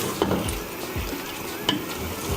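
Soft scraping and clinking of a spoon stirring urad lentils (daal mash) in a pan, with a faint sizzle underneath and a few irregular knocks.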